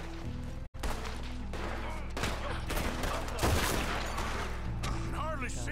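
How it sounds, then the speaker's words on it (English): Repeated gunshots in a nighttime shootout in Red Dead Redemption 2, scattered loud cracks and booms over a steady music bed, with voices shouting between shots. "I can hardly see what I'm shooting at. If it moves, blast it."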